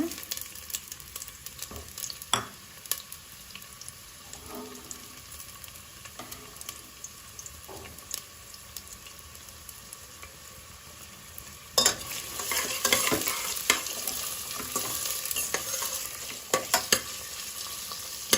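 Lengthwise-sliced onions fry in a pan for Hyderabadi chicken dum biryani, a low steady sizzle with scattered clicks and utensil taps that swells into a louder, brighter crackle partway through.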